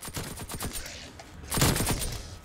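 Nail gun firing rapidly in a Call of Duty zombies round, a quick string of sharp metallic shots in a close, steady rhythm, then a louder, denser burst of fire.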